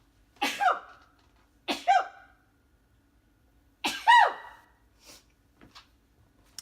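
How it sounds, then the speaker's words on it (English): Several sneezes from a person working on a craft project: two close sharp bursts, a pause, then a louder sneeze followed by faint sniffs and small breathy sounds, close up in a quiet room. "excuse me, I gotta sneeze."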